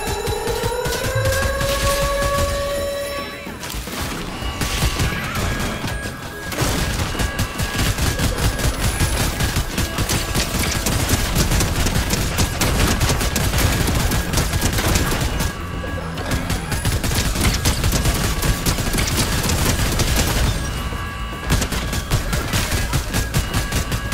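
Rapid, dense gunfire from a shotgun and other weapons in the video game Tales From The Loop, loud and nearly continuous across the whole stretch, with only brief lulls between bursts and no talking.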